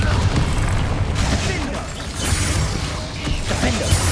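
Fiery Confringo spell blasts in the Hogwarts Legacy video game during a PS5 duel, with loud booming impacts and crackling bursts over continuous battle noise and shouted spell names.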